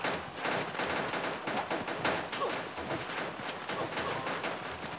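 Rapid automatic gunfire from the mobile shooter game Pixel Gun 3D, a dense unbroken stream of loud shots that fills the whole stretch without pause.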